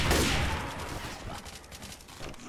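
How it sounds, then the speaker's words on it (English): A chain gun firing in Left 4 Dead 2, heard as a short, dense, continuous roar of rapid shots that stays loud and steady from start to finish. "Chain gun here."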